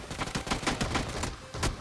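Rapid shotgun blasts ring out in a mobile battle royale room match, several sharp booming shots in quick succession at close range, dense and loud.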